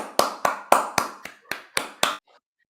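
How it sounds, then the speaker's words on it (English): Eight sharp, evenly spaced hand claps close by, a small staged round of applause, stopping abruptly. "Can I get a round of applause?"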